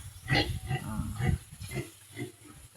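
A pig grunts in a short run of low, close snorting oinks, with a voice speaking briefly nearby.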